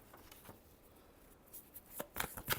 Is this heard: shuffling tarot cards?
yes